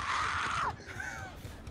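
A shrill, drawn-out screech in the horror video game Dead by Daylight, loud and close at first, then a fainter wavering echo with no talking over it.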